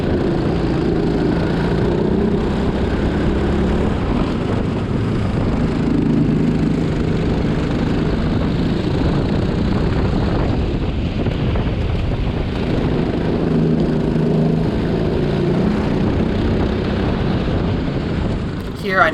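Racing kart engine held at full throttle down a straight during a race, a continuous loud droning roar mixed with heavy wind rush past the microphone, steady for the whole stretch.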